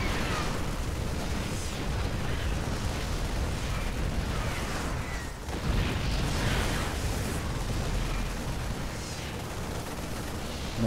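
Siege tanks firing in a StarCraft Terran versus Protoss match, a dense run of loud booming blasts and bursts overlapping continuously throughout, with no pause and no voices.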